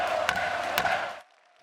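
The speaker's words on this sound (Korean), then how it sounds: "더불어민주당에선 환호성과 함께 박수 소리가 터져 나왔고" Lawmakers in South Korea's National Assembly cheer and applaud after a bill passes in the plenary session: a loud, dense roar of voices and clapping that cuts off abruptly after just over a second.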